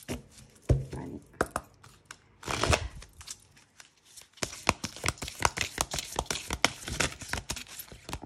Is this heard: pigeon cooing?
no